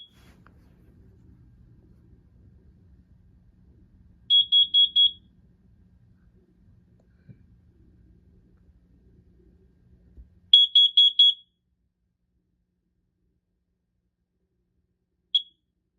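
A Kidde carbon monoxide detector sounds its alarm in two bursts of four sharp, high-pitched beeps each, several seconds apart, followed by a single short chirp, loud against an otherwise quiet room.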